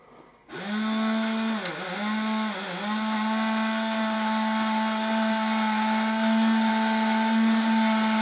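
Small Expo electric motor powered by 6 volt batteries, driving a Peco model railway turntable, starts with a click and runs as a loud, steady, whining hum that dips briefly in pitch before settling into an even drone.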